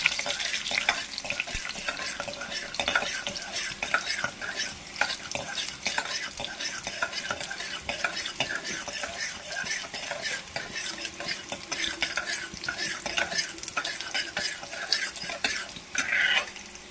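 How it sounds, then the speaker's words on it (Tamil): Garlic fries with popping mustard seeds in a pan, a constant close crackle and sizzle broken by repeated scraping and clinking from a spoon stirring against the metal. "கடுகு நல்லா பொரியும் பூண்டு போட்டுக்கோங்க. பூண்டு நல்லா ரோஸ்ட் ஆகணும்."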